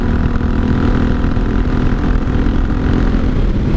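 A 1983 Honda Shadow VT750C V-twin motorcycle engine runs close and loud, a steady rough rumble with a throbbing low-end idle, no voices.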